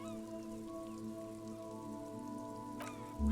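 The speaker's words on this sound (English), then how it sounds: "This rain will not let up anytime soon." Steady rain falls in Disco Elysium, a soft continuous patter beneath sustained game music, with a brief louder thump at the end.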